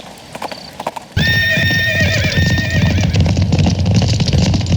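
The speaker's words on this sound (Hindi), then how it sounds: "सुनाई दे रही है घोड़े की चहल पहल।" A white Arabian horse clip-clops close by with loud, steady hoof beats, joined by a bright whinny early on and continuing hoof noise to the end.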